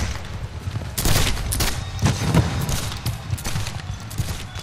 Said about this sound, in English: Union gunners fire point blank.